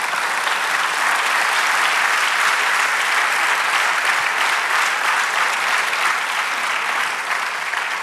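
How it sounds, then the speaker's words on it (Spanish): A church congregation claps together in a long, sustained burst of applause, loud, dense and even throughout, with no voices standing out. "Da un aplauso al Señor"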